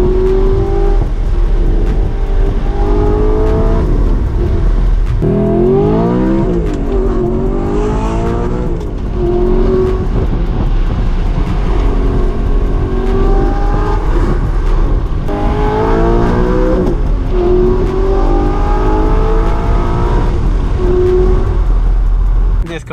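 A manual Audi R8 with a V8 and loud exhaust, heard from inside while driving: a continuous deep engine roar that climbs through repeated rev rises and drops as gears change, loud and close throughout.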